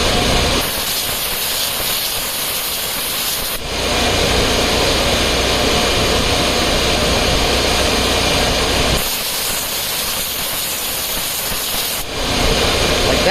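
ASIC crypto mining machines in a mining farm run with loud, steady fan roar and hiss, broken by two brief dips in the rushing noise, with no talk.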